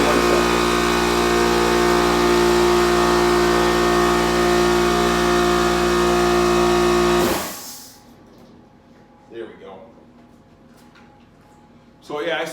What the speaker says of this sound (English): the car, it fired right up. Smooth as molasses, buddy.